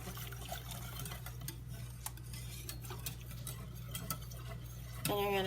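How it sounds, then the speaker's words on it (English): A spoon stirs Parmesan and Asiago cheese into a tortellini sauce in a pan, giving a run of light clicking taps over a steady low hum, with a voice cutting in at the end. "And you're gonna stir it until it melts."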